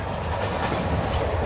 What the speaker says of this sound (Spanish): aquí estoy en un tren de los antiguos